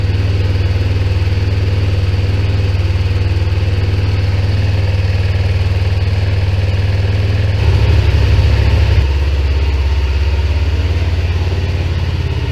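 A motorcycle engine runs at a steady idle throughout, a loud, constant low rumble with a slight shift in tone partway through, with no talking over it.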